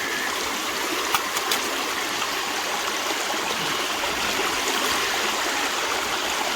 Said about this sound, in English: I'm going to quit yammering and run a little bit more of this sluice.